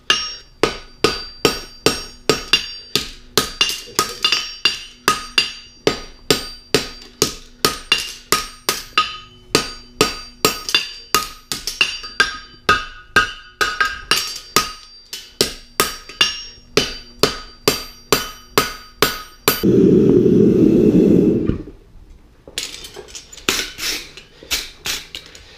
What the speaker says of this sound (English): I'll keep the branch of the shoe on the anvil, and I'll forge that down until I get a sharp corner there